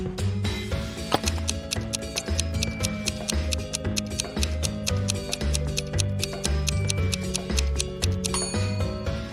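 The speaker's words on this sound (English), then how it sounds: "Liza would know that her father was talking about a clock." A clock ticks in a steady, even rhythm, each tick crisp and close, with a continuous mechanical hum and low background tones running underneath; no one speaks.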